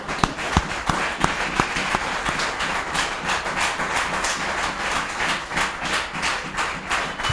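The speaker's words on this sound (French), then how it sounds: "Nous allons acclamer pour le Seigneur." Church congregation clapping and cheering in praise of the Lord, a dense, steady wash of applause with sharp individual claps standing out, sustained and fairly close throughout.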